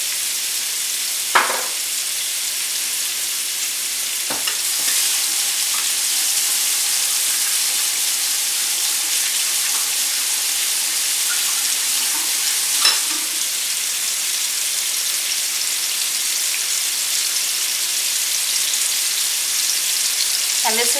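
Higher-fat hamburger steak frying in a non-stick pan, giving a steady bright sizzle that runs the whole time, with a few faint clicks and knocks from the pan along the way.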